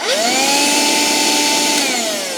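A Sinbo handheld vacuum cleaner runs steadily and loudly up close, a whining motor drone with a rising pitch at start-up and a slight dip near the end, no voices.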